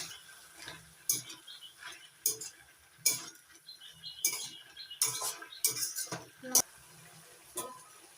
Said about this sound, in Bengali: এখন দিয়ে দিচ্ছি পুঁই শাকের পাতা নাড়াচাড়া করে নেবো